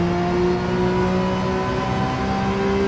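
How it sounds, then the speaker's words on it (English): Porsche 911 RSR race car engine in Gran Turismo 7 on Trial Mountain, a loud, sustained high-revving engine tone holding steady with slight pitch shifts, with no talking. "With the Porsche, you can rev it a bit."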